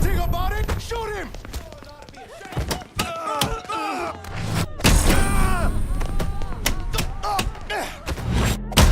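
Heavy thuds and booming shots ring out in Mafia 3 among clipped music and sound effects, while people talk over much of the action.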